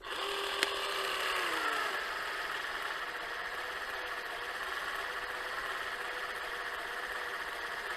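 A GTM GGC18/150 cordless glue and sealant gun runs at maximum power, giving a steady mechanical whir that starts with a brief higher whine and then holds at an even, moderate level throughout.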